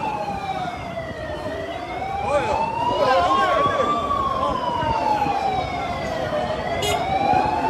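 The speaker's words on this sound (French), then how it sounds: "Donc il y a l'ambulance qui tente de passer." Wailing ambulance siren sweeping slowly up and down, loud and steady, as the vehicle tries to pass through traffic blocked in both directions by a police cordon, with road noise underneath.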